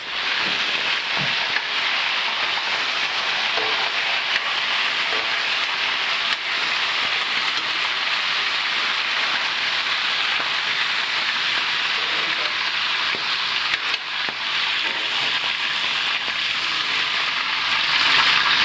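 Beef for Gölhisar kavurma fries in a hot pan with a dense, steady sizzle like heavy rain, loud and close throughout and swelling slightly near the end, with no talking over it.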